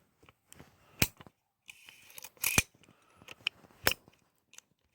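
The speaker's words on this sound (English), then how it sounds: "when you're pressing it, it will eject your spent casings" Sharp metallic clicks and taps as the ejector rod of a Heritage Rough Rider .22 revolver pushes out spent .22 casings, a few distinct close snaps spread over several seconds amid quiet handling noise.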